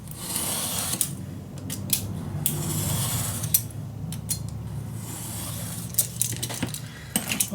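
Scissors snip through Ciao Bella craft paper for a suitcase project, giving several sharp close cuts and rustles in short clusters over a steady low background hum.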